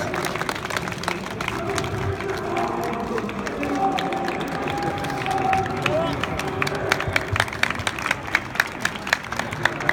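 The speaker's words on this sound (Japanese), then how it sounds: "2人に拍手をお願いいたします" Audience at a junior Shooto mixed martial arts exhibition bout applauding both young fighters, steady clapping and crowd murmur building toward the end, moderately distant under an announcer's voice.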